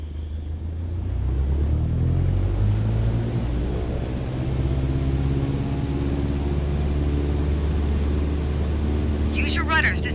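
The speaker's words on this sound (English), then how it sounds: "Apply full power and I'll walk you through the takeoff as we go." Small training airplane in Microsoft Flight Simulator 2020 throttling up to full power for takeoff, a loud, steady low engine drone and rumble building and holding, with a brief whining tone near the end.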